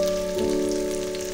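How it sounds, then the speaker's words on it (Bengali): Potatoes and grated coconut fry in a pan, a continuous close sizzle with a faint steady hum beneath, holding at an even level throughout without any speech. "আলুগুলোকে ভালো করে ভাজা করে নেব"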